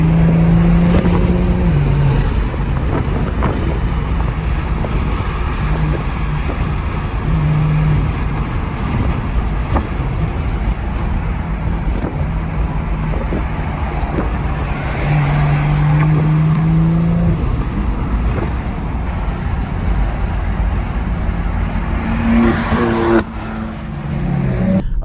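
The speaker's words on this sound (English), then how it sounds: "took the car for a spin so we can get some B-roll, put it right here, and got into a little mixy situation with M3" A BMW E90 car drives hard alongside a BMW M3, with a continuous loud engine drone and road roar, repeated revs rising and falling in pitch as it accelerates and shifts, heard from close by.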